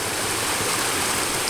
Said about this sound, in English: It's a lot of water up in there.